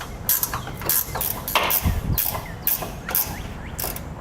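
A ratchet loosening 13mm bolts holding a heat shield above the passenger-side tire of a 2016 GMC Sierra, close rapid clicking in repeated short bursts with small metallic knocks between strokes.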